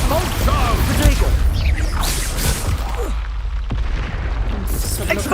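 The Expulso spell explodes in Hogwarts Legacy, giving a loud, dense blast with crackling and booming debris that runs on for several seconds, with game voices partly buried underneath.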